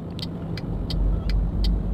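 A DAF XF105 truck driving in Euro Truck Simulator 2: a steady low engine drone, with a light ticking sound repeating at an even pace, roughly every third of a second.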